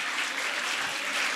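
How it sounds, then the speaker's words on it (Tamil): Steady, dense applause from an audience at a Tamil pattimandram debate event, sustained and even throughout with no pauses. "கைத்தட்டல்."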